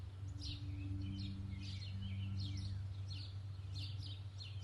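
Birds sing afternoon songs in a spring setting, with bright repeated chirps and short trills recurring through the clip over a steady low droning tone.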